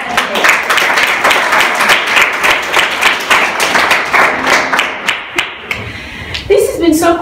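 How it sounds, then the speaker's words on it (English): An audience at a live event applauds, a dense, fairly close burst of clapping that carries on for several seconds before thinning out, with talking underneath. "please, a big round of applause for these 2 wonderful women that we just had here"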